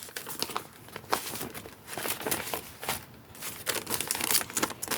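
Cheese packaging wrappers are handled, crinkling and crumpling continuously at close range, with brief tearing-like rustles and no talk.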